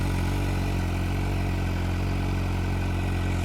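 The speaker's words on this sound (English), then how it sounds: "Sounds pretty good for a stock bike" A stock motorcycle fitted with an organ exhaust idles steadily, giving a constant low, throbbing engine hum that stays close and even throughout, with no talking.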